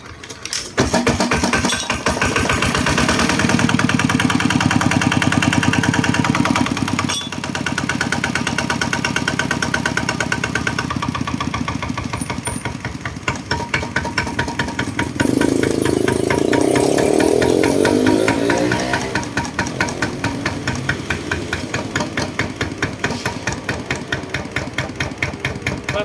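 A used 8-horsepower Kubota ET80 small diesel engine idles with a rapid, rattling knock, loud and close, running steadily throughout with slight shifts in tone.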